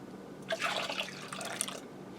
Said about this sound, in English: I'm also going to add in 2 cups of whole milk